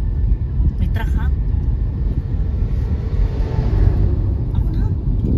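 A truck rolls by on a mountain road with a loud, continuous low rumble close at hand, while people keep talking over the engine noise.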